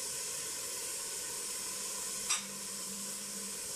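Mushrooms and corn hiss and sizzle in a hot pan under a steady stir, with one brief louder scrape partway through.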